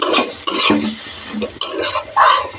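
Sugar being mixed into aloo methi with a spoon in a pan, heard as close, loud scraping strokes in a few quick bursts with brief pauses, along with light clinks of metal on the pan.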